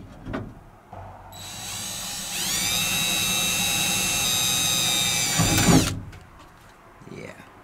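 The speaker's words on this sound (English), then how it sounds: "and then drill the hole?" A power drill whirs at high speed for several seconds drilling a hole in a truck, its pitch steady, then winds down; brief handling knocks before and after.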